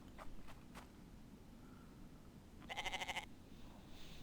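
A goat in a survival video game gives one short, faint, wavering bleat amid a quiet outdoor background with a few soft taps before it.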